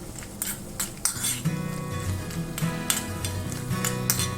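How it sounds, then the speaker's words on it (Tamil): Spices frying in a pan on low flame for kadamba rice, a soft continuous sizzle under frequent metallic clinks and scrapes of a spoon against the pan, close, with no talk. "இது சிம்மில் வச்சு ஃப்ரை பண்ணுங்கள்"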